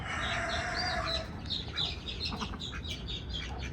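Chickens clucking and squawking nearby, a string of short agitated calls over a busy background rustle.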